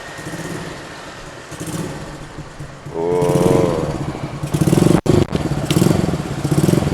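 A custom motorcycle with an aftermarket exhaust idles nearby with a low, throaty burble, then revs up briefly before settling back to a rumbling idle.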